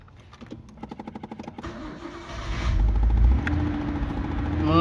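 A used car with about 442,000 km is cranked over in rapid even chugs by the starter until the engine catches, then settles into a loud close running rumble that rises toward the end.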